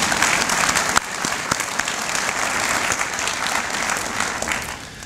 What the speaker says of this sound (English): I think that's worth applause, isn't it?